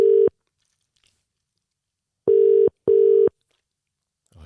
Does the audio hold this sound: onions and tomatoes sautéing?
no